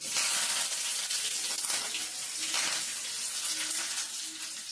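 Curry leaves, mustard seeds and pepper sizzle in hot oil in a kitchen, a steady close crackling hiss with brief louder spurts as the seeds pop.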